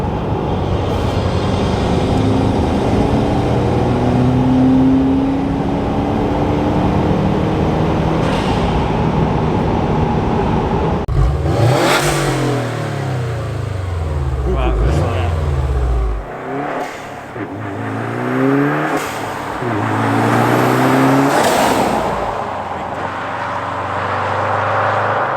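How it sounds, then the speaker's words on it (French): A 2018 Subaru WRX STI fitted with a Cobb air intake drives along with a steady, close engine drone and several rising and falling pitch sweeps as it accelerates and shifts, with no talking. "on entend un petit peu plus le turbo"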